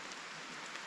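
Rain falls during a thunderstorm on a mountaintop as a steady, faint, even hiss with no thunder evident.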